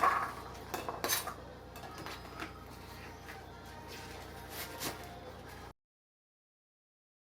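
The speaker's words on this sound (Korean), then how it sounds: "쪽파 3cm 정도 썰어줍니다" Green onions chopped with a knife into short pieces on a cutting board for turnip kimchi, giving a few quiet, irregular taps and clicks close by before falling silent.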